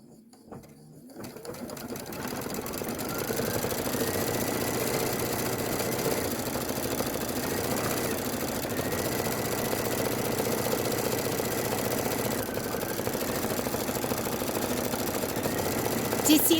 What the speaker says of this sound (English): now it wants you to stitch out the words general store